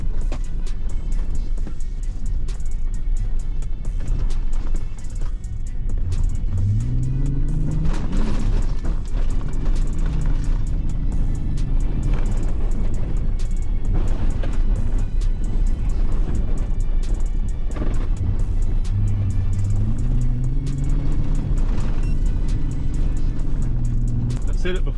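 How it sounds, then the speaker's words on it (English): A Pax Power supertruck's exhaust drones steadily from inside the cab while driving, with the note rising and falling as the truck shifts and accelerates, loud and continuous throughout. "That exhaust sounds good. They did a good job on that exhaust."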